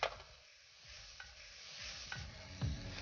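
Ingredients sizzle and shift in a hot pan while being sautéed, with a few soft scraping and stirring knocks, steady and close with no talking.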